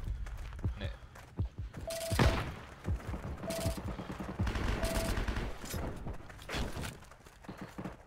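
In the World War II shooter Heroes & Generals, on a hamlet map, machine gun fire crackles in scattered bursts and single shots of varying distance, with footsteps and other game sounds.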